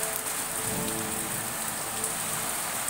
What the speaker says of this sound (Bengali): টিনের চালে কিন্তু বৃষ্টির আওয়াজ শুনতে ভারী মজা, অনেক ভালো লাগে।